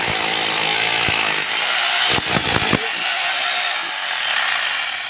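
A power tool breaks up a concrete road on a construction site with a loud, steady grinding roar that fills the whole clip, and a few sharp impact bursts come near the middle.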